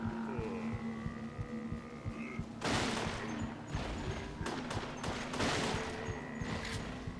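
Gunfire in the video game Resident Evil: The Darkside Chronicles, with loud bursts of shots and impacts over a steady rhythmic background thumping, the firing clustered in dense stretches over several seconds.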